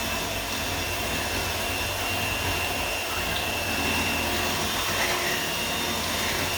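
Electric mixer whirring through pumpkin pie filling, a loud steady motorized drone that holds without a break from start to end, nothing else heard above it.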